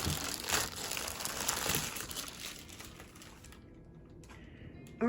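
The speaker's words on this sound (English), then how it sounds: "I'll take the plastic off." Plastic wrapping crinkled and pulled off a Saker electric chainsaw, a busy close rustle for several seconds that stops abruptly, leaving near silence with a few faint ticks.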